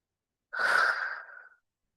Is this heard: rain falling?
no